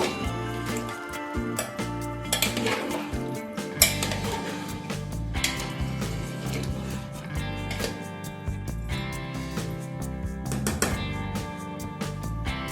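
A spoon scrapes and knocks around a pot as mutton is stirred with salt and water, irregular metallic clatters and scraping close by over a steady background hum.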